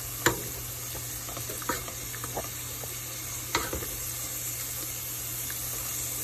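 A spoon stirs and scrapes a hot pan as wine and Worcestershire sauce deglaze it, with a steady sizzle and hiss under a few sharp scrapes and clinks, close and fairly loud.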